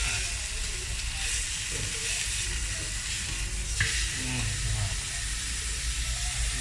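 Thick beef tenderloin steak fries with garlic in a home frying pan, giving a loud, steady, close sizzle and crackle throughout, with a brief clink of a utensil partway and a voice faintly under it.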